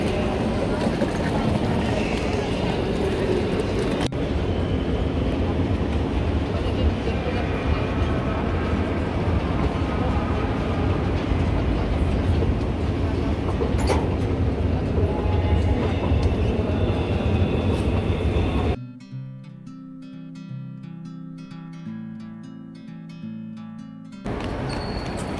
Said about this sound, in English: lots of people were at this train station.